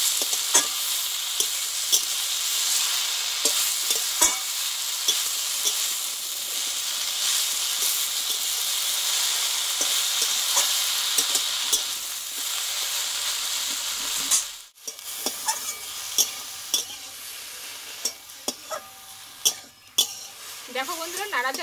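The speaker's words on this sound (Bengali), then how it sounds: "ডাঁটার শাকটা আমি একটু তেলে ভালোভাবে কষিয়ে নেব।" Danta shak stem greens sizzle in hot oil while being stirred, a continuous bright frying hiss with scraping strokes; midway the hiss drops away and sharper utensil clinks against the pan follow.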